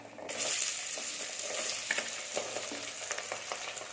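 About 150 grams of peeled, cut shallots sizzle steadily in a pan for a Tamil village-style mutton kuzhambu, with a few light stirring clinks over the constant frying hiss.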